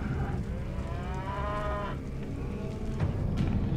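Livestock cattle low in a long, drawn-out moo, with a second call close behind, over a busy outdoor background of other animal noise and rustle.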